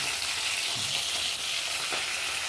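Pomfret pieces fry in oil in a pan, producing a dense, even crackling sizzle heard up close and steady throughout, with no talking.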